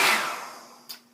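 A handheld blow dryer runs loudly and close while drying a synthetic lace front wig, a broad airy roar that fades gradually, with a brief sharp burst near the end.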